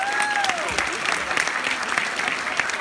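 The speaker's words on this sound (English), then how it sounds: "Let's give these people a round of applause." A roomful of attendees at a Scentsy World Tour event give a round of applause, loud and sustained dense clapping with scattered cheers throughout.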